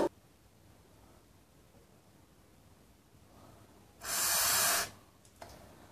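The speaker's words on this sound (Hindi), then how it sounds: "तो मैं इसे स्प्रे कर लेता हूँ।" WD-40 sprayed onto a rusty motorcycle side indicator nut, one loud close hissing burst of under a second after quiet room tone, then a faint click.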